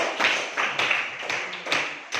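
A class gives a group presentation a short round of applause, several distinct bursts of clapping spread over two seconds, fairly close and with no talk.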